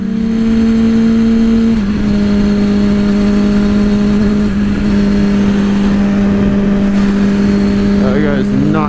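A motorcycle engine drones loud and close with wind rush, shifting up a gear partway through and pulling harder as it accelerates on the road.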